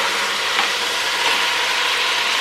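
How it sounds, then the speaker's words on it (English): Meat sears in a hot pan with a loud, continuous, close sizzle that fills the whole stretch evenly, with no voices. "we're looking, again, to get a good sear on the meat"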